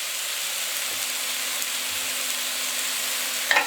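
Beef coated in steak seasoning browning in a pan for stew, giving a soft, steady sizzle that holds evenly throughout with a brief clatter near the end.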